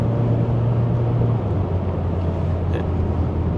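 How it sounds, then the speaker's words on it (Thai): A Mazda 3 2.0 SP Fastback under acceleration, heard from inside as a loud, steady engine and road drone whose low pitch shifts partway through. "ลองเติมคันเร่ง"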